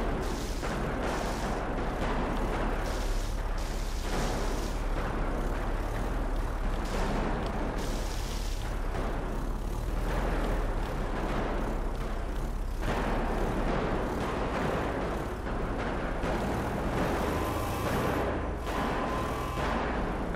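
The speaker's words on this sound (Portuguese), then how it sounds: "Esses tiros são aqui dentro do stand de tiro aqui da loja de armas" Repeated gunshots ring out from a gun shop's shooting range in GTA 5, irregular bursts of muffled bangs over a constant low rumble.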